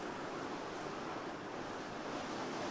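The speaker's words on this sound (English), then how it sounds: "so you may hear the wind in the background." Steady, broad rushing of wind outdoors, constant and fairly loud throughout, like gusts buffeting, with no voices.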